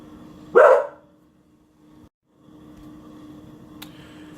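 A single sharp bark from a dog rings out close by, followed by quiet room tone with a steady low hum and a faint click near the end.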